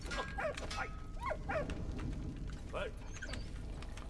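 Dog in Valiant Hearts: several short yips and barks, some in quick pairs, fairly soft against a steady game background, with a voice talking.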